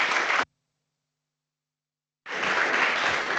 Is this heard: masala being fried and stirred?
no